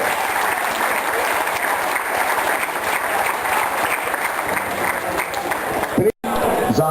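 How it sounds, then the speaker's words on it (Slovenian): Steady applause from a crowd at the opening of a business zone, dense and continuous with a brief dropout near the end. "En aplavz za gospoda Mika in njegove sodelavce."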